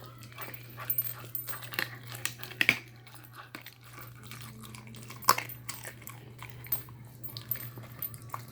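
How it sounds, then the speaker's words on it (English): A 15-week-old puppy chewing through raw chicken with bones: scattered wet crunches and gnawing clicks, a few sharper cracks, faint and close over a steady low hum, with no talk. "she has no problem powering through and fully chewing up those bones in that chicken"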